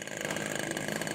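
An O.S. LA 65 model plane engine runs in a continuous, buzzing drone at steady speed, fairly faint and heard alone over its brief span.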